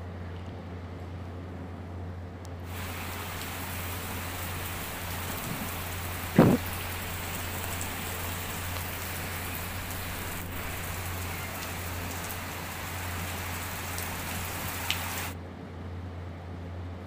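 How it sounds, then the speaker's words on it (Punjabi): Heavy, wind-driven rain pours steadily near a house's stairwell and rooftop, a dense continuous hiss with one sharp knock partway through and no voices. "ਆ ਦੇਖੋ ਅੰਦਰ ਤੱਕ ਮੀਂਹ ਪੈ ਰਿਹਾ, ਬਾਛੜ ਵਾਲਾ ਮੀਂਹ ਸੀ"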